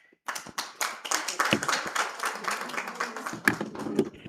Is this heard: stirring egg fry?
no